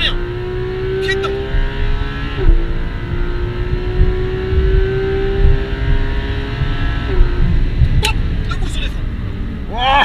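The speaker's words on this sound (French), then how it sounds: "On accélère de plus en plus fort. Allez, au taquet. Pied au plancher." A 500 hp Porsche GT3 RS accelerates hard on a race circuit, its engine note climbing steadily with a brief shift around midway and another near the end, loud and close, with no speech over it.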